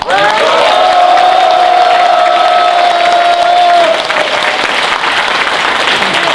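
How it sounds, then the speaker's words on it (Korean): Party members applaud and cheer loudly at a Democratic Party district rally, a dense wall of clapping with a sustained whistle or horn tone for the first few seconds, then continuing applause. "여러분들의 뜨거운 박수와 함성으로 더불어민주당 영등포을 지역위원회 당원 결의대회를 시작하겠습니다"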